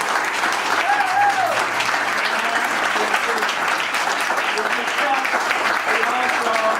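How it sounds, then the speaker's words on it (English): A crowd applauds at a Boys & Girls Club pavilion dedication in New Smyrna Beach, a dense, sustained clapping that stays steady throughout while a voice carries faintly over it. "So this man deserves a round of applause"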